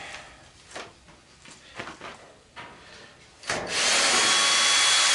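Power drill backing Phillips screws out of an old clothes dryer being scrapped, a few clunks and rattles of handling followed by a loud sustained whir close by toward the end.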